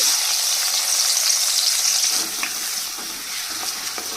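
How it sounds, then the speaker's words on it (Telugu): Two medium chopped onions frying in hot oil for a spicy egg curry, a loud bright sizzling hiss right up close that eases slightly midway and carries on steadily, with no voices. "2 మీడియం సైజ్ ఉల్లిపాయలు కట్ చేసుకున్నాం కదా, అవి వేసేద్దాం"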